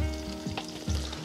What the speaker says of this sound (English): That sizzle. The sizzle.